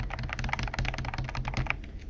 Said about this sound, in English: So that is the typing test of the keyboard.